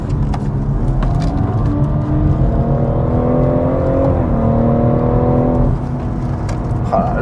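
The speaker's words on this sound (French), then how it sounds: "Mais qu'est-ce qu'elle marche bien cette 140i." A BMW M140i laps the Nürburgring under hard acceleration, its engine drone loud and sustained with rising gear pitch and a brief dip near the end, heard from inside the car with no talk.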